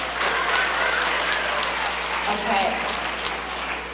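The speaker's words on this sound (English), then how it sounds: "give her a round of applause as she comes up" Schoolchildren in a school gathering give a student a round of applause, a steady wash of clapping lasting a few seconds, with a brief spoken word partway through.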